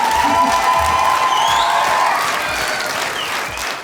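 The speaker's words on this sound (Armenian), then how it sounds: "եկեք բարձր ծափարենք" Loud applause from a talent-show audience for a performer during the Armenian Got Talent 2026 final, with dense clapping and crowd cheering sustained throughout, easing slightly toward the end while a tone rings above it.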